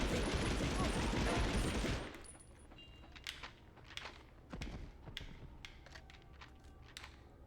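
Dense, rapid gunfire from the video game Medal of Honor Underground fills the first couple of seconds, then thins to scattered single shots and sharp clicks at a lower level.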